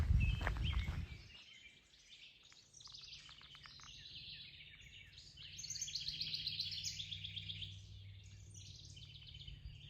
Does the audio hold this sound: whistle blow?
no